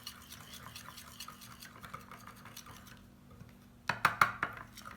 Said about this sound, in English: I'm just going to keep mixing it until it's all smooth.